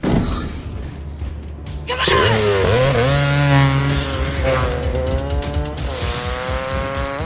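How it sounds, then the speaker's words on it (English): A movie motorbike chase from Terminator 2: Judgment Day, with engines revving and whining up and down in pitch, tires squealing and a crashing impact, loud and dense action audio. "number 5, motorbike chase, Terminator 2, Judgment Day."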